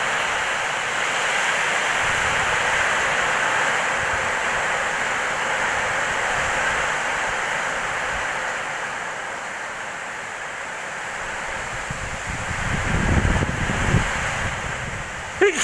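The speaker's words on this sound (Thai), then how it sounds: "มาทั้งลมทั้งฝนเลยครับ" Steady roar of strong wind with a broad rushing hiss like rain, continuous throughout, swelling louder near the end.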